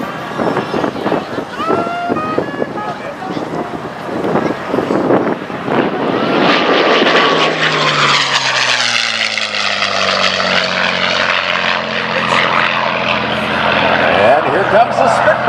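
A P-51B Mustang propeller aircraft flies at an air show at Paine Field, its loud engine drone rising and sweeping past with a shifting pitch, while an announcer talks over it at the start.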